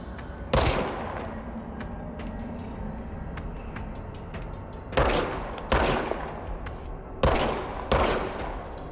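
Gunfire from a service weapon in the video game Control comes as several sharp bursts of shots with short echoing tails, separated by quieter background ambience.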